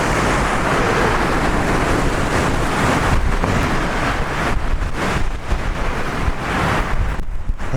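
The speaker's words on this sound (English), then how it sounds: "Hopefully you can hear me over all the wind noise." Strong wind gusting across a hilltop motorcycle campsite in Arizona's Mogollon Rim country, a loud, continuous roar buffeting the microphone with surging and easing bursts.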